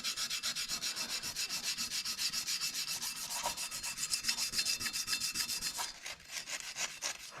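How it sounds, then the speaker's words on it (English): Fine grit sandpaper rubbed by hand on a Polaris primary clutch after a blown belt, rapid even back-and-forth strokes about four per second, close and steady, briefly pausing near the end, no talking. "I'm just going to take a little piece of tiny fine grit sandpaper, and just with my hand, I'm just going to smoothen that out"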